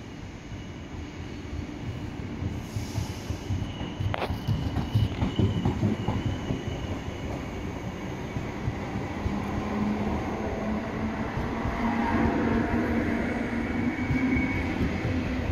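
A train rolls through Rotterdam Centraal station with a steady rumble, clacking wheels and a rising metallic squeal near the end; no one speaks.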